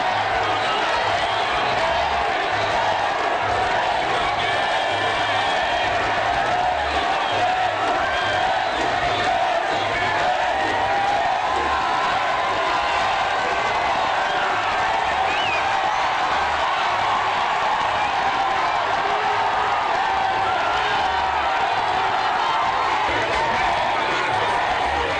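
A dense, loud crowd in Kanian, Guinea, cheers, shouts and whoops continuously around President Alpha Condé during a public walkabout, a steady roar with no breaks.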